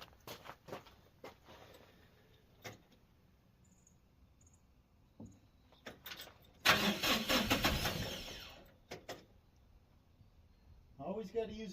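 A backhoe's diesel engine cranks and catches with a loud burst of rough rumbling, preceded by clicks and thumps, then dies down; someone talks briefly before and after.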